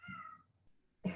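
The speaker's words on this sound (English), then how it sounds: "it's your nagging cat. He's down the hall." A cat meows from down a hallway, two drawn-out calls about a second apart, faint and distant in an otherwise quiet room.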